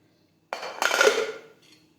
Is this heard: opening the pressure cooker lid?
yes